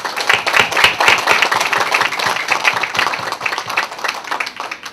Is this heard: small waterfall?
no